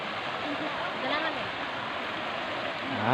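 Stream water rushes steadily at Pusoy Falls, a close, even wash of flowing water that swells slightly at the end.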